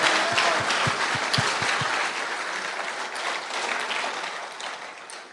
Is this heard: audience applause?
yes